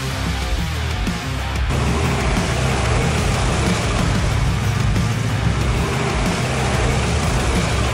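Inside a moving truck cab, a loud steady engine drone with road roar fills the space, continuous and rumbling, with no talk.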